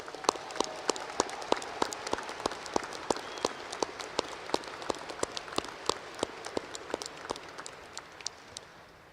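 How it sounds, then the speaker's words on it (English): Audience applause at a fall graduate school commencement ceremony, a steady wash of clapping from a large crowd with many sharp individual claps standing out, sustained and fairly even throughout, no talking. "Let's give them a round of applause"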